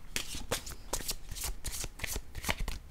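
A deck of tarot-style cards is shuffled close up in rapid, riffling bursts that repeat steadily, loud and without any voice over it.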